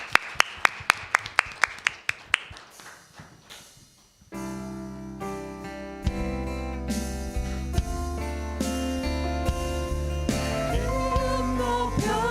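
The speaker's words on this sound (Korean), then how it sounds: "하나님께 영광의 박수 올려드리겠습니다." Church congregation at a Korean Baptist Sunday service clapping in a quick, regular rhythm of about a dozen sharp claps that fade out, followed by loud sustained worship music taking over.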